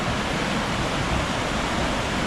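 The Meenachil river pours over a check dam as a steady, dense broadband rush of water, continuous and even with no voices.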